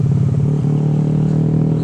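A Yamaha NMAX daily-ride scooter with a modified throttle body and ECU idles and revs steadily, a loud close engine drone with a constant low hum and slight clatter.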